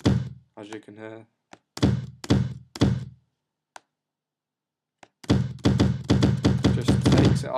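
A kick drum sample with its filter cutoff lowered, heard as a series of short punchy thumps with gaps and a silent pause, followed by a faster run of hits.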